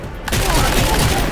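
Rapid bursts of gunfire in the video game Deus Ex: Mankind Divided, a loud dense fusillade that starts abruptly and continues without pause.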